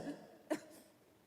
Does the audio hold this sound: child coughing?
yes